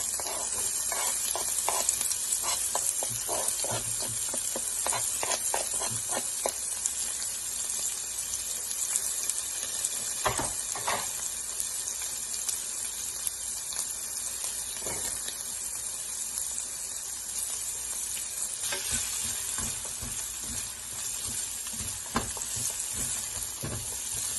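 Onions and ginger sizzle in a hot pan, a continuous frying hiss broken by scraping, clattering stirs, busier at first and steadier later, with no talking.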